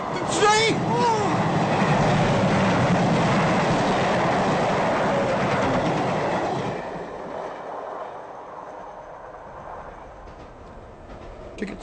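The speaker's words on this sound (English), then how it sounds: "I can hear the train." A train passing close by, a loud sustained rumble with clattering wheels and a brief squeal for several seconds before fading to a quieter hum, with voices in the background.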